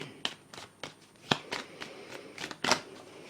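Oracle cards being shuffled by hand in a series of crisp riffling bursts and soft slaps, close and fairly quiet, with no talking.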